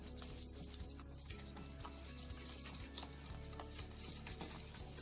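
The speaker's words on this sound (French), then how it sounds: "on va mélanger jusqu'à ce que ça devienne complètement liquide" A small batch of glutathione suppository mixture stirred over heat until it melts makes soft, irregular scraping and ticking strokes over a faint low hum, quiet and close with no talking.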